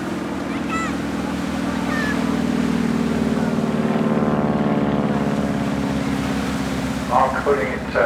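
A Stinson Reliant, a 1933 American civil propeller aircraft, flies turns at the English Riviera Airshow, its piston engine droning loudly and steadily with a rhythmic propeller beat throughout, and brief crowd or announcer sounds near the end.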